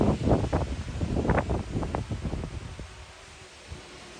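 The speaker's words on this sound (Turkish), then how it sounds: "Acaba rüzgar daha da şiddetlenir mi diye bekliyorum açıkçası." Strong gusts buffet the microphone in loud rumbling bursts during a drone wind test, then ease off toward the end, leaving a softer steady wind.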